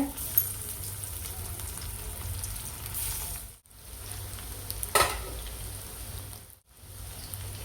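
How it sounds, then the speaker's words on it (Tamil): Masala-coated taro (colocasia) pieces sizzle and fry in hot oil on a slow flame, a steady crackling hiss with brief pauses, close and fairly loud with no talk over it. "எண்ணெய் சூடாயிட்டுருக்கு இப்போ நம்ம மசாலா போட்ட சேப்பங்கிழங்கு ஒவ்வொன்றா போட்டுக்கிறோம் ஸ்லோ ஃப்ளேமில் வச்சு வறுத்துக்கோங்க"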